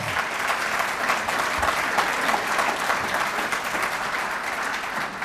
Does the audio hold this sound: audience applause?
yes